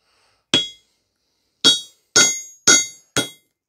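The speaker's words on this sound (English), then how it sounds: "we should be able to hit around the edge of it to clean the ceramic material from out of the cap" Five sharp hammer strikes on the ceramic cap of an old HRC fuse, the first alone and the next four in a quick uneven run, each a bright clinking crack that fades fast against otherwise silent surroundings.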